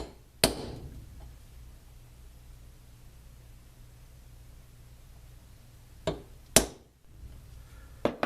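A center punch is struck into marked spots before drilling holes for a 510 connector: one sharp metallic tap near the start, then a quick cluster of three or four crisp taps toward the end, close and loud with quiet between.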